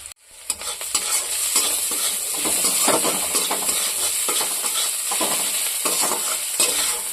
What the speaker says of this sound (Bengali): কাঁচা লঙ্কা আর একটু তেল দিয়ে পেঁয়াজটা ভেজে নেবো